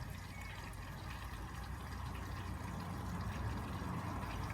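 Water rushes and churns continuously in a steady wash as a washing machine drum fills to about half full, with a low mechanical hum underneath.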